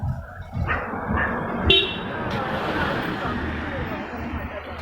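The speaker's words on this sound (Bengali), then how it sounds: "ও আসলে হর্ন দিচ্ছিল" A car horn honks on a busy road near Batasia, short toots rising briefly above loud traffic rumble and the chatter of nearby people.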